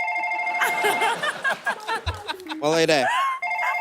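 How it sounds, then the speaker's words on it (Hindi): A phone rings with a steady electronic ringtone while people talk and chuckle over it nearby. "मेरा फोन है। अच्छा अभी बजा है"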